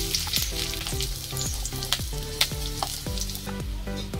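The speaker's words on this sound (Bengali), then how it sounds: "দেখুন তেলের মধ্যে আমি দিয়ে দেবো পেঁয়াজ" Onion frying in hot oil for an eggplant bharta, with a steady close sizzle and crackle cut by regular spatula scrapes and taps against the pan.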